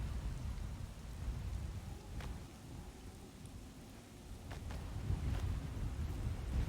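Rain in the video game Mortal Online 2: a steady wash of falling rain with a low rumbling undertone. It swells slightly toward the end and has no talk over it.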